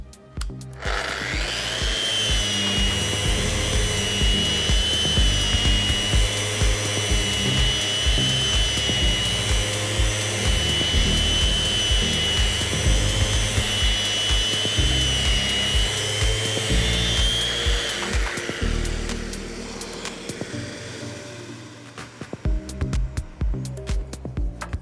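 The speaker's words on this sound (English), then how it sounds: "now I'm going to use the RO150 in ROTEX mode for 5 strokes." A Festool RO150 sander worn in ROTEX mode runs steadily for about eighteen seconds, a loud, continuous whirring grind over wood, then winds down into quieter clatter and handling noise.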